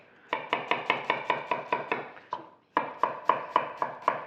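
A knife chops an onion on a board in steady, evenly spaced strokes, about a dozen crisp knocks in two runs separated by a short pause, close and loud with no voices.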